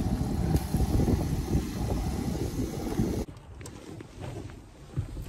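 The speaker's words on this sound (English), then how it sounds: "you might not be able to hear me out there because it's literally so windy here" Strong wind buffets the microphone in a loud rumbling roar, easing noticeably partway through but still gusting.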